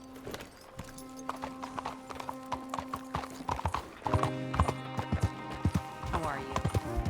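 Horse hooves clip-clop at a walking pace in the video game Red Dead Redemption, with close, regular hoofbeats and a horse neighing, set against sustained musical tones.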